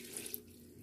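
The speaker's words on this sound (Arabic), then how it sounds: "نحط عليها كوبايه اللبن" Milk pours in a single faint, brief trickle into Eid cookie dough, a soft splash that fades after a fraction of a second.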